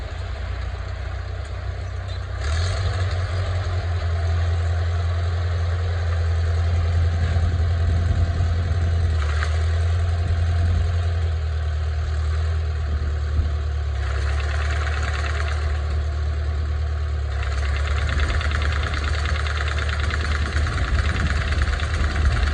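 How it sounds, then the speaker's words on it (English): An IH Farmall Cub tractor starts and settles into a steady, loud engine run with its PTO-driven mower engaged, the low idling rumble continuous throughout with no talk. "I'm going to jump on the tractor, let's start it, and I'm going to engage the PTO"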